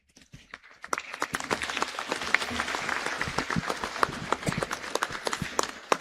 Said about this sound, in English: May we give her, please, another round of applause.